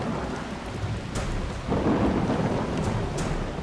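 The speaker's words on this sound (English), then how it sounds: "I think there's a storm happening." Steady rain pours down while thunder rumbles low and close, swelling louder about halfway through.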